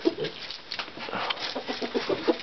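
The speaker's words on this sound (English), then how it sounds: "So, we could take this rooster out at any point, but apparently we don't want to." A rooster clucks and calls in short repeated bursts among other fowl outdoors, at moderate volume with background noise.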